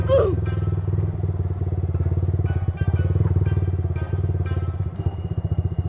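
A motorcycle engine idles and chugs close by in a steady, low rhythmic putter while someone learns to ride, with brief voices and clatter over it.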